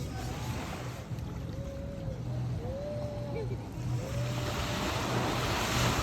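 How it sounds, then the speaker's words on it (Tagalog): Sea waves wash continuously on the beach at Icove, with rushing surf and wind buffeting the microphone. Low voices and faint calls carry faintly under the roar. "Dagat na."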